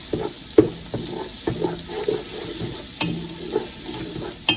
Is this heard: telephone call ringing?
no